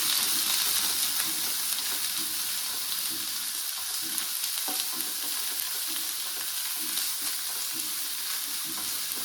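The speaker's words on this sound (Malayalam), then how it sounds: "വലിയൊരു സവാള കനം കുറച്ച് നീളത്തിൽ അരിഞ്ഞതായിരുന്നു ഇത് ചേർത്ത് നന്നായിട്ടൊന്ന് വഴക്കി" Thinly sliced large onion sautés in hot oil with mustard seeds for a masala dosa filling, a steady close sizzle with occasional stirring scrapes, no talking.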